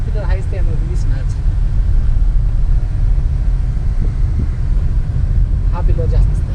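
Tata Nexon driven on a highway, heard from inside the cabin: a constant low engine and road rumble with wind buffeting, and brief muffled voices near the start and end.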